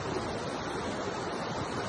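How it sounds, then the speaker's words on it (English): The Westfield River roars beneath a double stone arch bridge in a dense, constant wash of rushing water that stays loud and unbroken with no talking. "The river is roaring under the double arch today."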